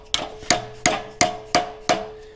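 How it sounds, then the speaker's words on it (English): A soft hammer striking an aluminum kart body panel during shaping, six evenly spaced, close, sharp blows with brief ringing decay, no speech. "Like this hammer, it's nice and soft."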